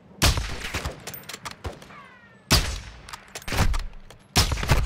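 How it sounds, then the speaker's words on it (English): Enemy gunfire in the video game Call of Duty: Modern Warfare II: loud, close bursts of rapid shots come in three clusters, with short quieter gaps of scattered single cracks between them. "They're shooting me."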